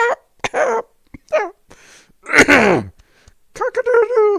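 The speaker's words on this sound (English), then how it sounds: "Random cough. Random sounding cough." A person's cough, voiced and strangely rooster-like, comes in several short throaty bursts with pauses between them, close to the microphone.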